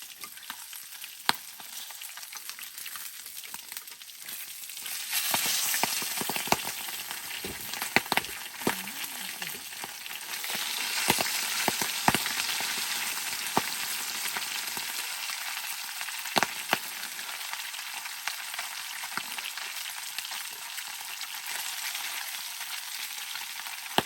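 Fish fries in a pan at a riverside campsite in Rondônia, giving off a steady close hiss of hot oil, with crackles and sharp spatters popping through it and louder bursts in the middle.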